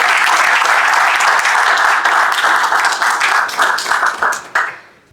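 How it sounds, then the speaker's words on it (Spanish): Loud, close crowd applause at a religious liberty summit in Santander, Colombia, a dense burst of many hands clapping that holds strong, then breaks into scattered claps and fades out near the end. "Recibámosla con un aplauso,"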